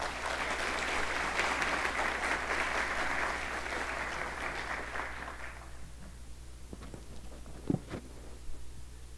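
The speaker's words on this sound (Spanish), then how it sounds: "Fuerte los aplausos." Audience applause at the opening of a social inclusion forum with ministers present. A dense, even clapping of a medium crowd, heard from a moderate distance, fades out after about five seconds, leaving quiet room sounds and a few scattered taps.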